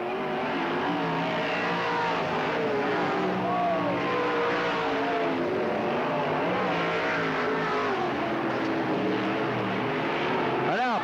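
Several race cars circling the track at Cottage Grove Speedway in 1991, with loud engines rising and falling as they pass and a race announcer talking over the noise throughout.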